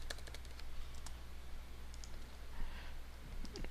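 A computer mouse clicks sharply in quick pairs and scattered single taps close by over a steady low hum, with no talking.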